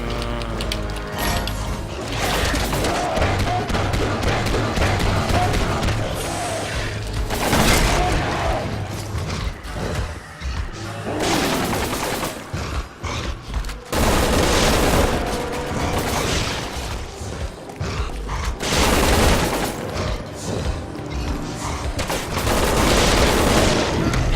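Assault rifle fire in Resident Evil 6, loud sustained automatic bursts mixed with mechanical clacks and reload clicks, broken by short pauses across the stretch.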